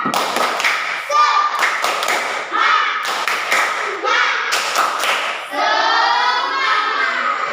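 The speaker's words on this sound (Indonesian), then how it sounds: "boleh tepuk semangat lagi ya, biar tambah semangat ya. Tepuk semangat." A classroom of children does a rhythmic Indonesian 'tepuk semangat' clapping chant, with loud, patterned bursts of claps and thumps mixed with kids' chanting voices throughout.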